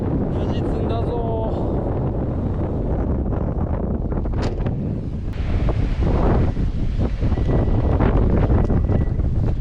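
Strong wind blows at sea around a small two-horsepower boat, roaring and buffeting loudly against the microphone with a rushing, gusty texture that grows stronger in the second half, mixed with water sounds and brief voices.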